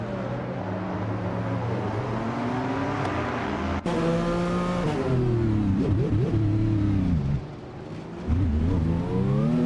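A 2014 Rebellion R1 race car in a racing video game, with a loud, close engine note rising and falling through gear changes, a sharp click near four seconds and a brief lift-off dip near the end.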